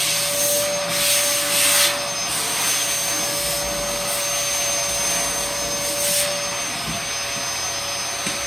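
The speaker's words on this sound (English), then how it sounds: "That's a vacuum." A vacuum cleaner runs loud and close with a continuous roaring hum and airy whine, its suction noise shifting slightly as it moves, with no talking over it.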